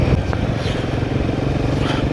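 A classic motorcycle rides past on a mountain road, its engine a loud, steady rumbling drone, close by and continuous throughout.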